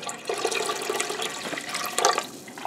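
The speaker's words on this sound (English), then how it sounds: "I have to add my vinegar." Liquid splashes and gurgles as vinegar is poured into water already sitting in a home canner, a continuous moderately loud pour with a brief surge near the end.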